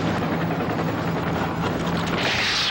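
Helicopter from the Superman film scene, a steady broadband rotor and engine roar with a low hum throughout, loud and continuous with no talk.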